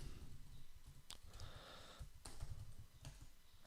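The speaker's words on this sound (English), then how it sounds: "My typing today is horrible." Typing on a computer keyboard at a desk, with scattered light clicks and a few brief bursts of keystrokes, fairly quiet and close, with no speech.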